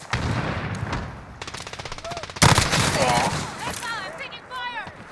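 Rapid bursts of automatic gunfire crackle in Call of Duty: Modern Warfare 2, a sharp, loud blast cutting in partway, followed by more shots and short voice callouts over the fighting.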